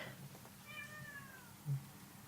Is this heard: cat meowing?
yes